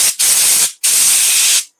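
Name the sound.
compressed air blowing grit out of elm wood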